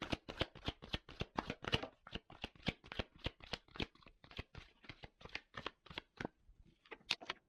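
Tarot cards are shuffled by hand in a fast, even riffle of soft, papery slaps, close and quiet, running steadily for several seconds before slowing near the end.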